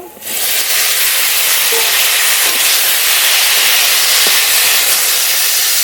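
Drumstick vegetables go into a pan of frying potatoes with a sudden loud, steady hiss of sizzling oil that starts right away and keeps going evenly, with a few faint taps.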